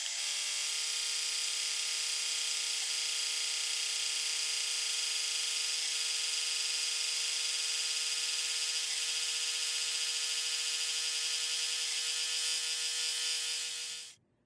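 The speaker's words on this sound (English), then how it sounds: "I'm just going to go ahead and run this through my serger" A serger sewing machine running along a quilt edge gives a steady, loud mechanical whir that holds unbroken for about fourteen seconds, then stops abruptly.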